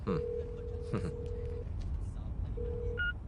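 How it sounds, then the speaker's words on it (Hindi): Electronic phone keypad tones sound as buttons are pressed to dial, a steady beep held then repeated, with a brief higher tone at the end over a noisy background. "एक दबाओ और उसके बाद हरा बटन।"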